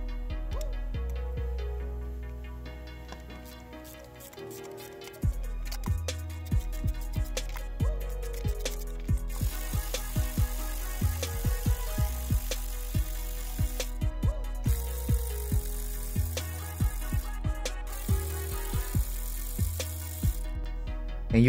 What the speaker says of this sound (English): you're going to need to loosen it up by hand with a ratchet before you attempt to use an electric ratchet